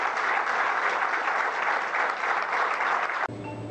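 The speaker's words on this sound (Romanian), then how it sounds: "a fost primit cu aplauze de tinerii democrat-liberali." Applause from young Democratic Liberal party members at a summer school gathering, a dense, steady wash of many hands clapping for over three seconds before cutting off abruptly.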